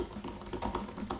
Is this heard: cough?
no